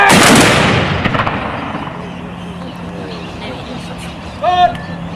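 Volley from muzzle-loading rifles fired by a volunteer regiment, opening with a loud outdoor blast that rolls away into a long fading echo, with a shouted voice briefly near the end.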